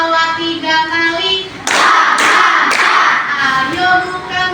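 A small group in a classroom coaching session claps hands in several loud, brief bursts, with singing-like voices before and between the claps.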